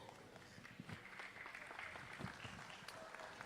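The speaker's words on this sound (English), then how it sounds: "Let's give her a round of applause as well." An audience at a 4-H/FFA dairy cattle show at the Umatilla County Fair claps in a fairly faint, scattered round of applause that lasts the whole stretch, with a hint of crowd murmur.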